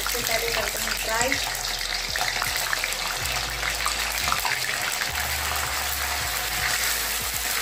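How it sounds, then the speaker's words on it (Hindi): Paneer frying in a pan in a home kitchen, a steady loud sizzle that runs throughout, with occasional clinks and someone speaking over it. "तो चलिए सबसे पहले करते हैं फ्राई।"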